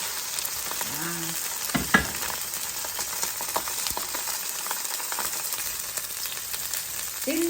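Fish fries in a small amount of oil until browned and caramelized, giving a steady, close sizzle throughout, with a couple of brief sharp clinks and a short spoken word near the end.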